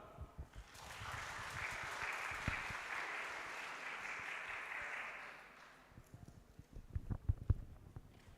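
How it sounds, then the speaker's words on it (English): An audience at an international healthcare conference claps for several seconds as a speaker is invited on stage, the applause swelling then fading, followed by a few scattered footsteps or knocks nearby. "Please give applause."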